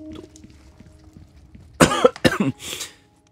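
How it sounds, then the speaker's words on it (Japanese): A person coughs during a Resident Evil 4 game session, a few sharp, close bursts following quiet game sounds, then silence. "咳をするのは良くないよね。"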